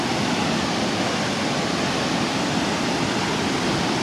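Strong rushing water pours down a forgotten waterfall (curug), making a loud, steady, continuous roar with no break and no voices.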